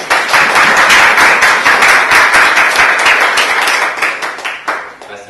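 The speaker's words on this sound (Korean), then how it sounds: "감사의 박수를." An audience at a church service claps loudly in thanks after educators perform a drama: a thick, sustained burst of close applause that tapers off near the end.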